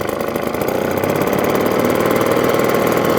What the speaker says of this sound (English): Atco standard, kickstart, lawnmower, 2-stroker,